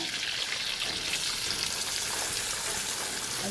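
Cooked dried prawns go into a hot pan of oil with curry leaves, setting off a steady, loud sizzle and crackle of frying that runs unbroken throughout.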